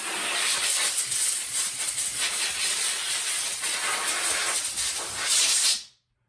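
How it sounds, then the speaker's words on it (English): An air compressor nozzle blows bursts of air over freshly cleaned fixie bike parts in a shop, a loud continuous hiss with slight pulsing that stops abruptly. "I get the rest of the moisture off with my air compressor"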